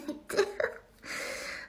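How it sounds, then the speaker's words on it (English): A person lets out a quick burp, short throaty bursts packed into under a second, followed by a soft breathy exhale, close and fairly quiet. "Oh, sorry, I'm burping."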